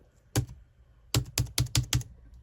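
Keys tapped on a computer keyboard attached to a machine running ReactOS, one isolated press followed by a quick run of five crisp clicks, close and fairly quiet, with no voices.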